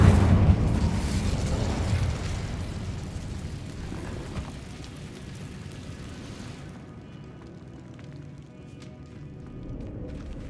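A fire spell in Hogwarts Legacy bursts with a loud whooshing blast, then a rumbling roar that fades slowly over several seconds, with game ambience continuing underneath.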